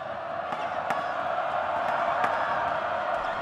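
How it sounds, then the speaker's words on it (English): Basketball arena crowd cheering steadily through a free throw at a Philippines–Thailand game, a loud continuous roar with a few sharp whoops and claps. "Ogoy feels the cheers"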